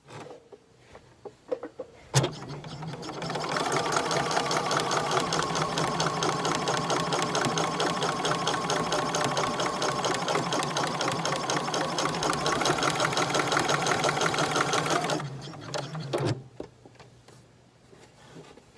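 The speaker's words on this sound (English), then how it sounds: "we're just going to go and sew down both sides" A sewing machine stitches down both sides of a folded scrap fabric strip, running in one long, steady, close-up burst of rapid mechanical whirring for about thirteen seconds, with brief clicks and handling noise before it starts and after it stops.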